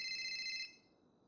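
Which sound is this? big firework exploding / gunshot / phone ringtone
phone ringtone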